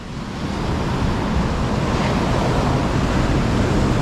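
Ocean waves wash onto Seruni Beach, Pacitan, Indonesia, in a steady, broad roar of surf, constant and fairly loud, with some wind noise.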